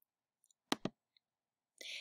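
Two quick computer mouse clicks close together on a website registration page, crisp and near in an otherwise quiet room, followed by a burst of hiss at the end.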